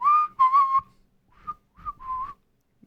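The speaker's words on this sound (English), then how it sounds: "I can whistle." A person whistles a short tune of several clear, pitched notes in two bursts separated by a pause, close and alone with no talk.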